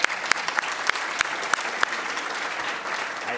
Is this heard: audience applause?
yes